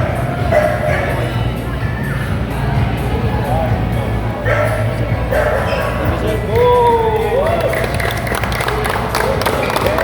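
Dogs bark now and then amid a busy crowd at an American Bully dog show held indoors in the Philippines, with loud hall chatter and voices throughout.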